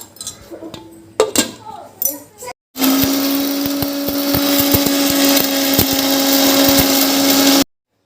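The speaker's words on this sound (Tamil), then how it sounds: "அடுத்து தேங்காய் போட்டுருவோம். போட்டு ஒரு சுத்து மிக்சியில் நம்ம அரைச்சிக்கிறோம்." A kitchen mixer grinder whirs loudly with a steady high motor whine as it grinds cardamom and coconut, after a few seconds of clatter and handling sounds, then cuts off abruptly.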